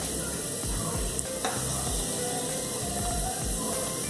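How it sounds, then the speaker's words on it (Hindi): Pieces of desi chicken sizzle in a hot pot, producing a steady, close hiss with faint crackles and no talking. "चिकन ऐड कर रही हूँ, मैंने 2 बड़ी बड़ी बूटियाँ ली हैं"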